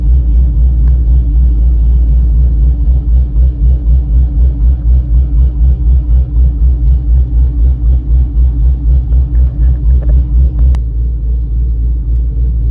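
A Camaro with a swapped 4L80E automatic transmission and modified shifter idles steadily after starting, a loud, low, continuous engine rumble with an even pulsing rhythm that runs throughout without talk.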